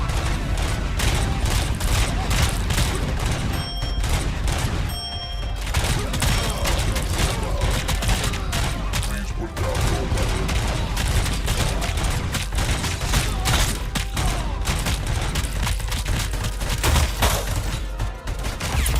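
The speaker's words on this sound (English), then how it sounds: "Where am I getting shot from?" Dense, continuous gunfire fills RoboCop: Rogue City, with rapid overlapping shots and impacts striking toward the player, loud and close throughout, alongside mechanical clatter and no clear pauses.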